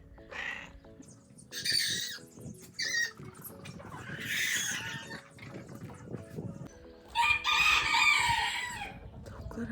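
Chickens squawk and cluck close by, with a rooster crowing loudly a few times among the flock's chatter.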